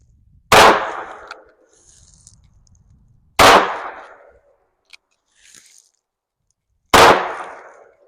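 A Ruger Single Six .22 pistol fires three loud, evenly spaced shots at cans outdoors. Each sharp crack trails off quickly, with a few faint clinks and rustles in the gaps.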